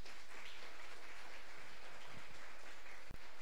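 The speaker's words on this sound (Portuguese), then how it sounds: "Irmãos, então, vamos aplaudir agora Jesus." A church congregation applauding together, a steady wash of clapping hands that stays even and fairly distant throughout, with a single sharp knock near the end.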